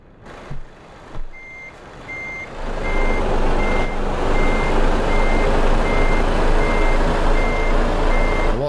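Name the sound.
truck reversing beeps, video game Euro Truck Simulator 2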